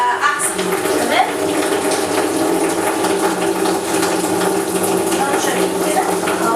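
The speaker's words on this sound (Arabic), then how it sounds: "ونحط بقى شويه ميه من الحنفيه" Water pours steadily from a kitchen tap in a continuous splashing rush, loud and close, with faint clicks and mechanical rattling underneath.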